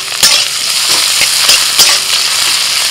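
Chopped onion and crushed garlic sizzle steadily in hot oil in a wok, a loud, close, continuous frying hiss broken by a few soft stirring knocks.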